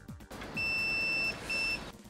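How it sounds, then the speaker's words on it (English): A multimeter in continuity-tester mode beeps while a screw touches a crankshaft or camshaft position sensor: two clear steady electronic tones, the first longer and the second shorter, standing alone. "Now I put my multimeter in continuity tester mode. It means that it beeps when there is continuity."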